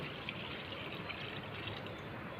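Water is poured into a cabbage, potato and tomato curry in a pan, a steady, faint splashing pour that runs unbroken with no talk.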